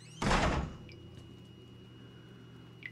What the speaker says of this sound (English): Close the door first.